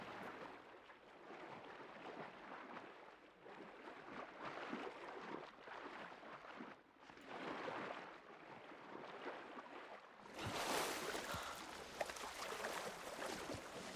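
Swimming in water in the video game Horizon Forbidden West: repeated soft splashing strokes in rhythmic surges, then a louder rush of water as the swimmer plunges or surfaces near the end, all fairly quiet.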